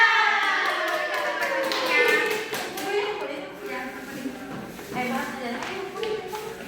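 A school class claps together in a quick, steady rhythm, the claps loud and close, with voices calling out over the beat in Indonesian.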